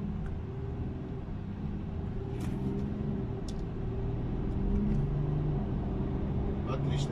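BMW X car setting off and driving, a steady low engine drone and road rumble heard from inside the cabin, holding even throughout, with faint occasional ticks on top.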